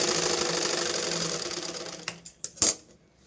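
Sewing machine stitching a blouse runs in a steady, dense whir for about two seconds, then stops and gives a few short clunks and bursts as the fabric is handled; no talk.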